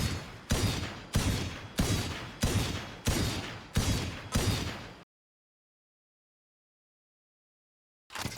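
Seven heavy, evenly spaced Sheriff pistol shots from the Valorant video game, loud and close, about half a second apart, then sudden silence before another shot at the end.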